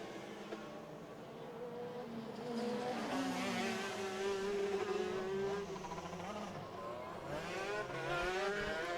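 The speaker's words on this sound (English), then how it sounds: "The 525 and the 511 rolling back out here." Race cars running laps on a track during a hot pit session, a steady, moderately distant engine drone with rising and falling pitch sweeps as cars pass.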